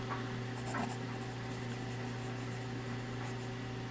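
A Monteverde Monza fountain pen with a fine nib scratches softly across paper in faint, close strokes, under a steady electrical hum with no speech.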